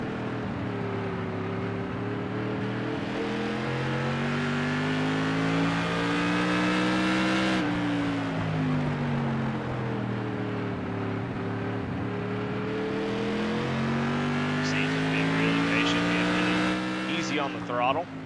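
Modified race car engine on the throttle around Martinsville during a Thunderstruck Tour Mods race, heard from on board: a loud, continuous roar that climbs and drops in pitch as it revs through the laps, with no break.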